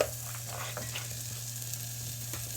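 Vegetables frying with onion, garlic and ginger in a pan, a steady close sizzle with a low hum beneath it and occasional soft stirring scrapes throughout.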